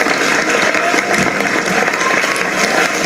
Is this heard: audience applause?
yes